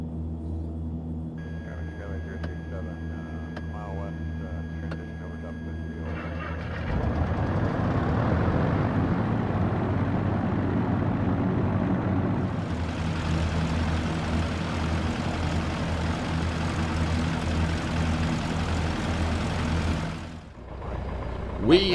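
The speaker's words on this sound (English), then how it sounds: "I'm going to be quiet now while we go through the remainder of the startup so you can hear the engine sounds" Aircraft engines starting up in a flight simulator game: low idling hum with tones, then a louder rising drone that thickens into a broad steady engine roar, continuing for about twenty seconds before a brief dip.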